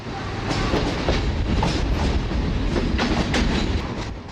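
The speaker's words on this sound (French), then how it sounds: "La locomotive diesel est remplacée par une CC électrique, pendant que des Desiro manœuvrent en gare." Trains maneuver through Cluj station in Romania, including Desiro units, with a continuous loud rumble and rhythmic clickety-clack of wheels over rail joints throughout.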